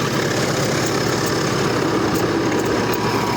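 The SMD-22 engine of a homemade Kirovets tractor runs steadily, a dense, loud, continuous diesel rumble close by with no voices.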